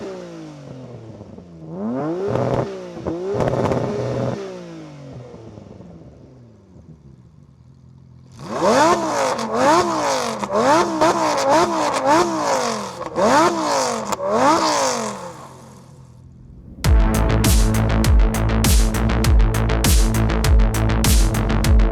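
A Nissan GT-R with twin turbos and a Lamborghini Gallardo accelerating hard, with rising engine notes climbing through several gear changes, followed by a louder, denser roar at full throttle, close and continuous.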